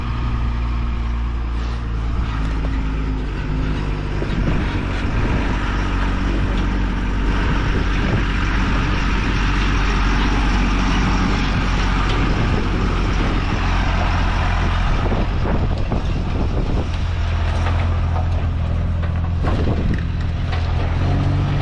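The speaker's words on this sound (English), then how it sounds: "Here comes another one of those trucks." A heavy truck rumbles past on a hiking road near Finca El Toro in Boquete, Panama, a loud, steady engine drone that holds throughout with faint hissing brake sounds.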